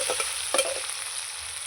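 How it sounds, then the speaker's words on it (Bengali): Chicken pieces seasoned with turmeric and salt fry in a pan, a close, steady hiss of oil with a couple of quick scraping stirs near the start, no voices. "চিকেনটাকে আমি ভাজবো মাংসটা কিছুক্ষণ নেড়ে চেড়ে ভেজে নিয়েছি"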